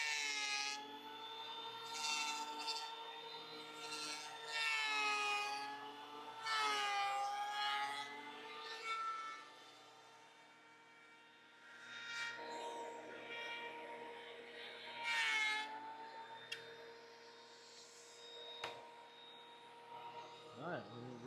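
A thickness planer feeds black walnut boards, producing a loud whining roar that swells and fades as each board passes through, with quieter stretches between passes.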